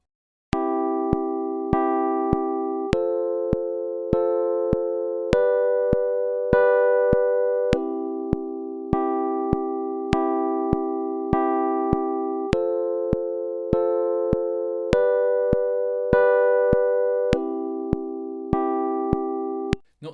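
Sustained electronic tones play half notes in 4/4 time, each pitch held for two beats in a steady, even pulse, with the melody stepping between a few pitches; clear, loud and alone, no voices.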